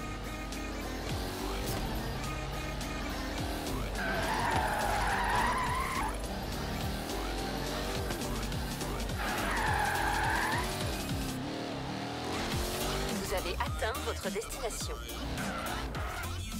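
Monaro GTS car in Forza Horizon 3, engine droning steadily with two drawn-out tyre squeals as it skids, while someone talks over the game sound.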